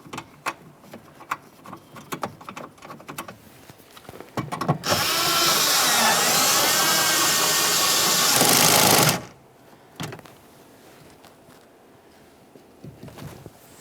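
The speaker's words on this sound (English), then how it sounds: "Let's install our 10mm headed mounting bolt inside this port here." A power tool drives a 10mm headed mounting bolt into a 2007-2017 Jeep Patriot rear door during interior handle replacement, with a loud steady whirring burst of about four seconds between quieter clicks and handling noises.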